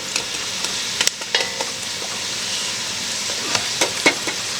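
Celery cooking in a soup pot for homemade chicken noodle soup, a steady close sizzle with scattered crackles and a few sharp pops, no voices.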